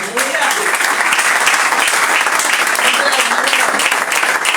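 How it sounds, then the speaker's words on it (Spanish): A church congregation claps during a sermon, producing loud, dense applause that fills the room continuously, with voices calling out faintly beneath the clapping. "Palmas a Jesús."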